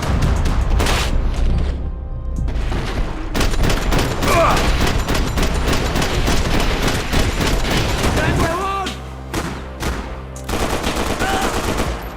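Sustained bursts of automatic gunfire and loud booms from a Max Payne 3 firefight fill the scene, dense and continuous, with shouted voices mixed in among the shots.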